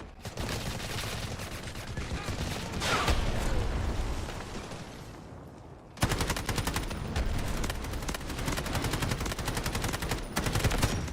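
Sustained automatic gunfire in a free-to-play first-person shooter, rapid rattling bursts with a short lull, then a sharp return to dense, loud continuous shooting.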